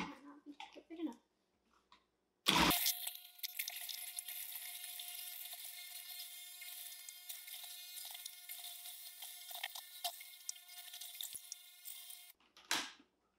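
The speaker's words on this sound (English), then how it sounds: "So let's just put a little through the food processor so that you can see just the kind of difference that you get" Food processor shredding cabbage, starting abruptly with a loud burst, then a steady high whirring motor drone with a buzzing hum for about ten seconds before cutting off; a voice is heard briefly before it starts.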